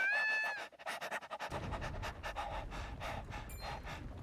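A person imitates a dog's panting in a Triangle Strategy video game scene, a fast, steady run of breathy huffs close up with a brief whine at the start, carrying on without pause for several seconds.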